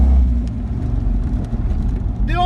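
A 1994 Ford Mustang GT SN95 V8 rumbles deep and close, pulsing unevenly, before a rising tonal whine climbs near the end as the engine revs.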